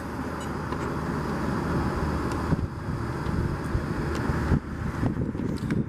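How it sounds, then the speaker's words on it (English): Loud, steady wind buffeting the microphone outdoors in Granada Hills, with a low rumble, a few gusty bumps and rattles, and no voices. "Now it's super windy today"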